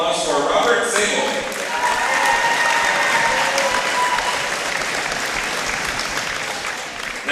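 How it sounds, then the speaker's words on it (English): Loud audience applause fills a school gym at a West Geauga high school wrestling tri-match, a sustained dense clapping crowd that holds for several seconds before easing slightly. "Please give a big round of applause for Robert Sable."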